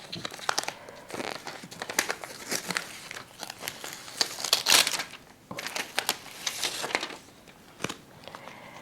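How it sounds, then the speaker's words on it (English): Paper backing peeled off fusible web for machine appliqué, giving close, dry crinkling and crackling with brief tearing bursts over several seconds, no talking. "score the paper with a straight pin till a piece pops up, and then take it off"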